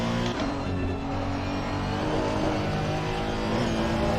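A Honda NSX (2018) race car in Assetto Corsa Competizione at Spa holds a loud, steady engine drone close up, sustained high revs with little variation throughout and no talk.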